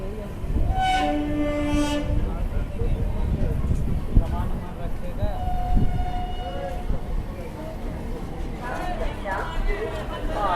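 An Indian Railways Jaynagar Intercity express roars past without stopping, with long blasts of its horn over a steady rumble of wheels, heard close from aboard another train in West Bengal while someone speaks.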